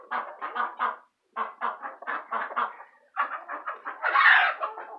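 A flock of chickens and roosters, including frizzles, silkies and Easter eggers, makes bursts of close clucking and squawking calls in rapid rhythmic runs, ending in a louder, harsher crow-like call.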